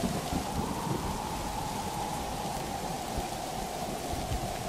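Heavy rain pours steadily during a nor'wester thunderstorm, with a low rumble of thunder beneath the dense, constant hiss.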